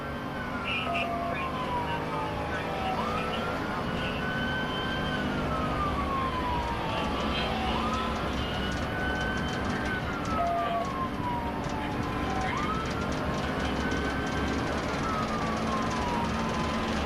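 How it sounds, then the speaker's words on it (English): A police car siren wails during a high-speed pursuit, its rising and falling tone sweeping in slow repeated cycles over steady road and engine rumble, continuous and moderately loud throughout. "activated his emergency lights and siren to initiate a stop"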